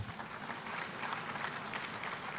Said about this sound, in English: He deserves an applause.